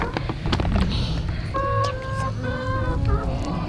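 Several chickens cluck in short, repeated bursts nearby, their clipped calls layered over a low rumble of background noise.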